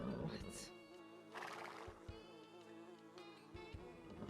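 Horse whinnying with a bright, trembling call in a SpongeBob SquarePants video game, followed by snorts and a few hoof-like thuds, set against a low synthetic game background.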